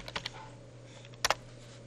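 A computer keyboard gets a few soft, quick key taps close by, a short burst at the start and another pair just past the middle, over a faint steady hum.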